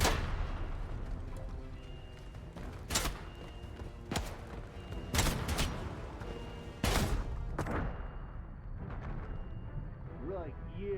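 Gunfire in the video game Atomfall: a series of loud, sharp shots spaced irregularly over a continuous rumbling din, some bursts close together, with the last reports fading into quieter rattling.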